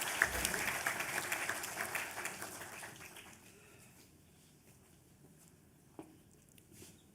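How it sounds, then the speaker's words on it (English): Applause from a large audience at a university orientation and induction programme, a dense, steady clatter of many hands that gradually thins and fades out, with one faint stray clap near the end. "May I request all of you to give a big round of applause for you having made it at NSUT."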